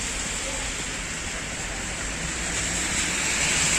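Steady broadband rush of wind-driven rain in cold weather in Italy, a constant close hiss that swells slightly louder toward the end, with no voices.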